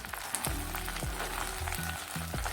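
Dried mint and coriander fry in hot peanut oil with a low crackling sizzle, while a spoon scrapes and clinks several times against the pan, close and fairly quiet, with no talking.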